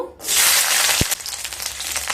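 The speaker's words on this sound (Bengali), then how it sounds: "তেল গরম হয়ে গেলে একটা বড় সাইজের রসুন পুরোটাই দিয়ে দেব" A whole large garlic bulb drops into hot mustard oil in a kadai and sizzles loudly, a steady close-up frying hiss that begins with a sharp burst and carries on without talk.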